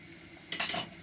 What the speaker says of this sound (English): Place on the lid